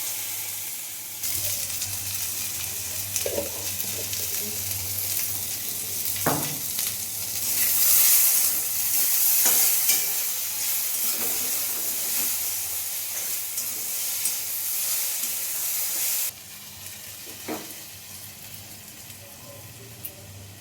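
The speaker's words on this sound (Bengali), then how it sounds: "আলু ভাজা করছি" Potatoes sizzle steadily in a pan in a home kitchen, a continuous close frying hiss with a few soft taps of a spatula, brightening in the middle before dropping slightly toward the end.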